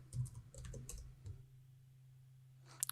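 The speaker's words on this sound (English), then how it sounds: "I type my password." Password typed on a computer keyboard while connecting over SSH to a Raspberry Pi master node: a quick run of soft key clicks over a low hum, then quiet with a couple of faint clicks at the end.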